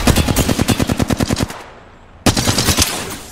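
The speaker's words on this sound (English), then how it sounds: "Some flunkers shooting at me." Rapid automatic gunfire in the battle royale game Apex Legends, a loud, close burst of about fifteen evenly spaced shots, a short lull, then a second rattling burst.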